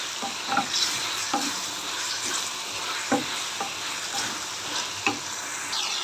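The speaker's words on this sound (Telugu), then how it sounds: "ఇప్పుడు దీన్ని కొంచెం ఇంకొక 2 నిమిషాలు వేగనిచ్చి, బాగా మగ్గనిచ్చి పక్కన పెట్టేసి" A capsicum and tomato mixture fries in a pan, with a continuous sizzle under repeated scraping stirs from a spoon at a steady rhythm, close and clear, with no talk.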